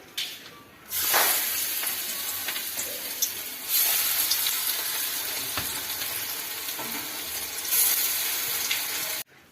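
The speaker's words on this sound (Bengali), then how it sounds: "এটা নেতা চিংড়ির চপ ভাজা আর কি" Shrimp chops frying in hot oil, a loud continuous sizzle that swells in bursts as pieces are added or turned, with no talking.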